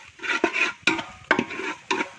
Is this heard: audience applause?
no